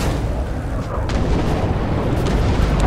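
Heavy artillery shells exploding in the Red Orchestra 2 winter forest battle, a dense continuous low rumble of booms with sharper bursts layered on top, loud and close throughout.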